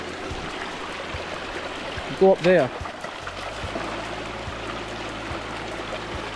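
A river stream in the hills below Mount Battock flows steadily in the background, with people talking briefly over the water.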